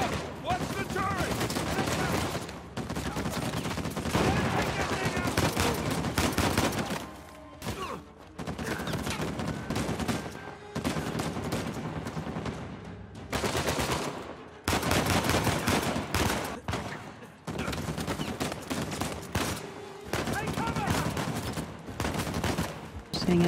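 A machine gun turret in Uncharted 4 rattles off long sustained bursts of automatic fire, loud and dense, broken by brief pauses, with a voice talking over the gunfire.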